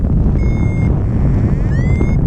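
Steady wind buffets the microphone of a paraglider pilot drifting downwind over the desert on a light midwinter day, a continuous loud rumble with faint high beeping tones from flight instruments.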